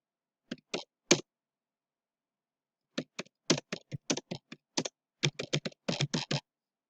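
Keys clack on a computer keyboard, first a few isolated taps and then a quick run of crisp keystrokes close up, with silence between the bursts.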